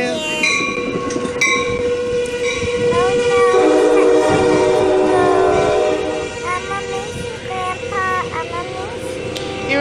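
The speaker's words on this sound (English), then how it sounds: "Grandpa's train." A train passes close by, loud and sustained for the whole stretch, with rumbling wheel noise and a steady horn-like tone, while people talk over it.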